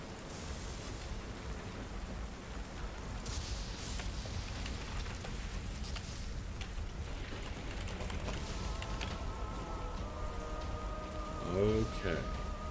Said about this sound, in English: as the pelting, pounding rain